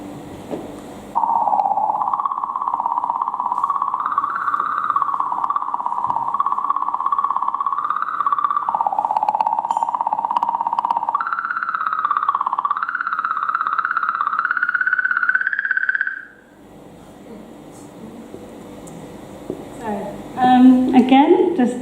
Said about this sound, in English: This is the sound of a comet.